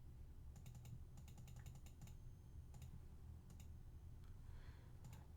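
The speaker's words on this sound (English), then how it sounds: "I want to type that again" Keys clack on a computer keyboard in short bursts of typing with pauses between, close and fairly quiet over a low steady background hum.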